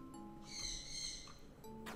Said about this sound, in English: Stop, bird, please.